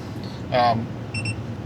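A few short, high electronic beeps from a truck's tire pressure monitor ring out in pairs, brief and fairly clear, with some low background rumble and faint talk.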